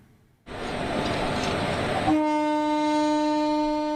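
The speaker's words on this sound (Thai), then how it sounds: "เสียงหวูดรถไฟโดยสารแล่นผ่านเส้นทางที่เกิดเหตุ" A passenger train roars past nearby, then its horn blasts a long, loud, sustained tone over the rumbling wheels.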